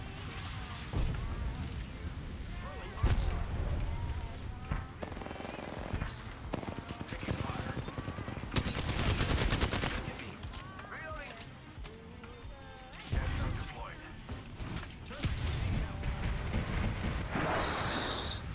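Rapid gunfire and weapon clatter from a hectic Apex Legends match, with loud cracks and bursts recurring throughout under near-constant excited talk from players.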